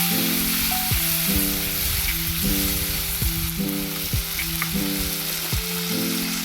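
Tomato and green chilies sizzling loudly in a hot pan with cumin for dosakaya roti pachadi, a dense continuous frying hiss with periodic utensil scrapes under a steady tonal background.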